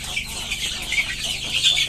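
Chickens, hens and a rooster, cluck and chatter nearby in a short burst of overlapping calls over a low steady background hum, with no one speaking.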